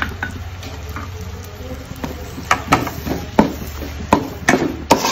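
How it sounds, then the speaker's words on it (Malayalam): Spoon or spatula stirring soy sauce and green chilli sauce in a pan for restaurant-style chicken noodles, with irregular scraping clicks and taps over a low steady hum. "ഇതെല്ലാം നന്നായിട്ട് മിക്സ് ചെയ്തെടുക്കാം"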